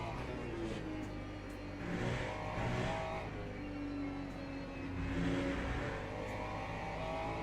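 LMP2 prototype race cars in the Le Mans Ultimate racing sim roar past with a steady, loud engine drone that swells twice as the cars rev and close in.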